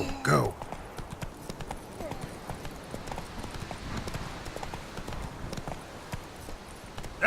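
Roach, a horse in The Witcher 3, gallops with a steady clip-clop of hooves, and a neigh is heard at the start; someone talks over much of it.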